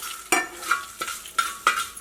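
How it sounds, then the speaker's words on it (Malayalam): A spoon repeatedly scrapes and clinks through fried ginger in a warm pan while preparing puli inji. It makes about five quick, evenly spaced strokes over faint sizzling, and no one speaks. "ഇതെല്ലാം കൂടിയിട്ട് നന്നായിട്ടൊന്ന് മിക്സ് ചെയ്യുക."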